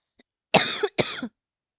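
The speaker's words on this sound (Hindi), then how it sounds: "खांसी बहुत हो रही है" Two sharp coughs in quick succession, close and loud, after a faint short sound.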